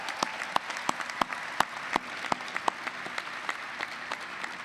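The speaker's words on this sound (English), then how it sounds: "I don't know why you guys are clapping." Audience applause at a university law school commencement ceremony, a steady wash of many hands with sharper individual claps standing out, sustained evenly throughout without speech.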